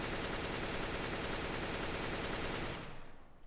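A crouching rifle spray in CS:GO, heard as one dense, loud, continuous burst of rapid automatic fire lasting nearly three seconds before cutting off into a brief fading tail.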